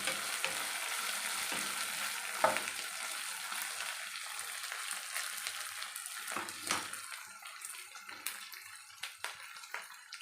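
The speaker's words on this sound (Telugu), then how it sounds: "మంచిగా హీట్ అవుతుంది బాగా వేగుతున్నాయి చూడండి" Gram flour bajjis frying in hot oil give a close, steady sizzle and crackle that tapers slightly toward the end, with occasional louder spits.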